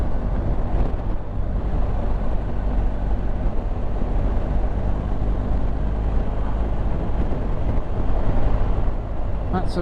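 Steady broadband wind roar while riding a BMW GS motorcycle fitted with a Puig screen extender, a continuous dense rush with engine rumble underneath, loud and unbroken with a slight swell near the end.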